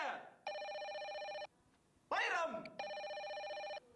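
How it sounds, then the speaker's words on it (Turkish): Telephone bell ringing in two long trilled bursts, loud and close, with a shouted voice between the rings. "Telefon geliyor, alo!"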